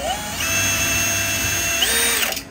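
Power drill pre-drilling holes for a garage door bracket on a frame, a steady close whine that holds, dips in pitch briefly near the end, then stops.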